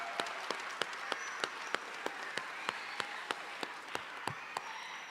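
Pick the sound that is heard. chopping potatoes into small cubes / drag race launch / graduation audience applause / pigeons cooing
graduation audience applause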